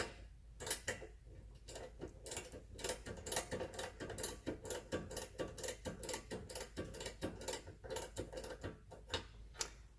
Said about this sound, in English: you're just going to tighten this lock nut until it clears the end of the bolt